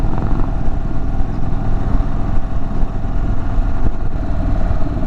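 Indian Super Chief Limited cruiser motorcycle under way, a steady low engine drone with wind rush, continuous and fairly loud throughout, no voices over it.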